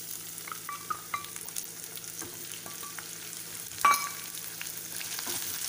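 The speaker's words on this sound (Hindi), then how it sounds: "तो प्याज को अब हम अच्छी तरह से भून लेंगे।" Large onions fry in a pan for an aloo matar curry, a soft steady sizzle broken by light scrapes of stirring and one louder clatter, with no talking.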